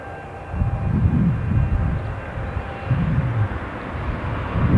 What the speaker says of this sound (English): I've just spotted the Jet2 737 from Malta